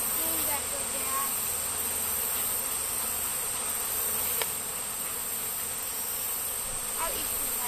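Honeybees buzz in a dense, continuous drone around an opened hive during an inspection, close and steady with occasional light knocks, and no talking.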